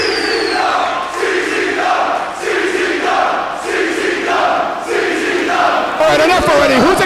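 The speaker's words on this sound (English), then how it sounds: "Listen to this crowd." A loud wrestling arena crowd chants and cheers in strong rhythmic waves, roaring continuously from start to finish, with a sharper burst of noise at the very end.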